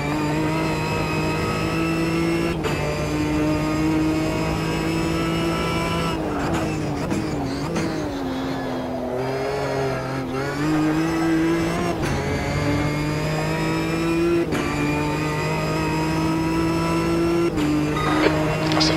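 Ginetta GT4 race cars lap a circuit during a round of a racing series, engines roaring loud and continuous with rising and falling revs as cars pass close by, gear changes and faint tyre squeal throughout, no talking.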